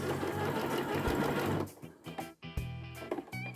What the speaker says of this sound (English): it's the bottom placket, so I'm going to sew right to the end